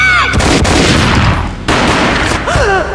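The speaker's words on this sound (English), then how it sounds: "A gunshot boomed and she fell down in slow motion." Booming gunfire in the Max Payne 1 video game: loud, dense blasts crash in at the start and again midway, each sustained by a rumbling, noisy tail that fills the whole span.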